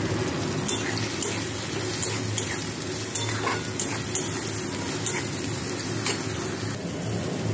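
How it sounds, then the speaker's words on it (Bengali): Potato, onion and tomato fry in a pan and are stirred, giving a steady sizzle with regular scraping strokes of a spatula roughly every second, close up. "আলু পেঁয়াজ অনেকটাই ভাজা হয়ে গেছে, এর মধ্যে দিয়ে দেবো কেটে রাখা টমেটোটা দিয়ে আরও 3 মিনিট মতো আমি ভেজে নেব।"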